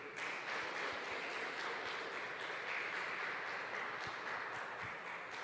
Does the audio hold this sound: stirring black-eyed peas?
no